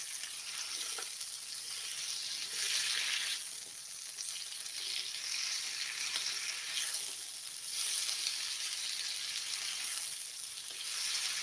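Vegetables fry and sizzle in a pan for spicy Indomie goreng nyemek, a loud steady hiss that swells and fades in slow waves as the food is stirred, close up with no talking.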